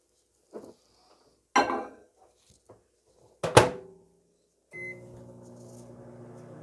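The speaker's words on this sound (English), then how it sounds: "Can you light a candle with a microwave?" Microwave oven with a candle inside: a few clicks and door or latch knocks, then a steady low hum with tonal harmonics starts and runs to the end, fairly close.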